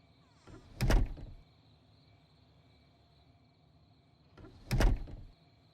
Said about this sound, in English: Be nice and close the church door.